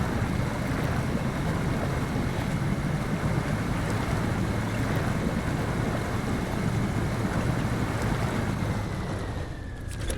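An International Scout 800 JBE mod drives underwater in SnowRunner, giving a loud, steady rushing wash of churning water mixed with a low engine rumble. The sound holds constant throughout and eases slightly at the end, and no one speaks.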